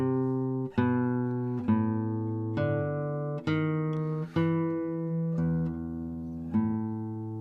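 A bass line played as single plucked notes, evenly spaced at first and then gradually slowing, each note clear and sustained, heard alone without talk.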